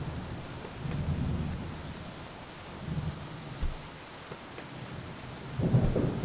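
A thunderstorm rolls over a dark garage setting in the game My Garage, with several low rumbles of distant thunder swelling and fading over a steady hiss of rain.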